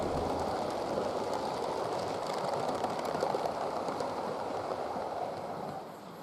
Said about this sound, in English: An A3 races south on an up express.